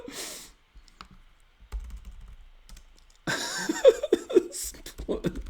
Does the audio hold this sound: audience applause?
no